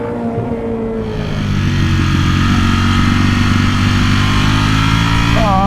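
A Ducati V4R superbike engine holds a steady, loud, buzzing drone under light throttle, rising slightly in pitch near the end, with no talking.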